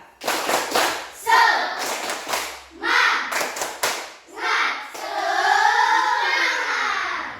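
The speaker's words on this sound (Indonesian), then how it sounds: "memberikan tepuk semangat" A class of children performing a spirit clap, sharp rhythmic group claps in short patterned bursts with children's voices shouting along, ending in a long chorus of young voices.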